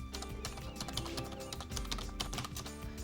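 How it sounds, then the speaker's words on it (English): Someone types a username on a computer keyboard to log into a driver-scoring website. A steady, busy run of clicks and keystrokes carries on for about three seconds with no talking. "So I'll type in my username"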